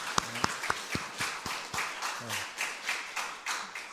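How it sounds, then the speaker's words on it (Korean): Church congregation clapping in praise during a Korean worship service, starting with a few sharp separate claps that quickly build into rhythmic group applause, with faint voices underneath. "큰 박수로 하나님께 영광의 박수를 올려드리도록 하겠습니다."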